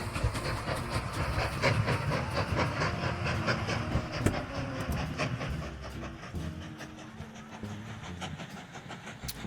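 A steam-era train rolls steadily in the railway-building game Mashinky, with rhythmic clickety-clack of wheels and a soft hiss of steam, continuous and fairly close throughout.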